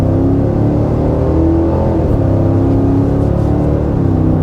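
Loud interior engine drone of a 2026 Cadillac Escalade full-size luxury SUV accelerating, with a smooth rising pitch that builds steadily and no talk.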